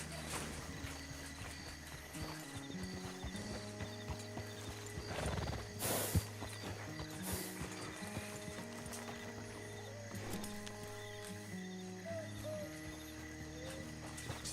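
A horse whinnies and its hooves clip-clop in a Red Dead Redemption roleplay game, set against game music with a sustained tonal bed and occasional birdsong, while the clip-clop steps continue steadily.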